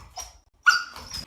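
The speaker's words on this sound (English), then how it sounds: "Alright there, dog. You're never going to get him." A dog gives a couple of short, close barks with a brief whimpering tone, separated by a quiet pause.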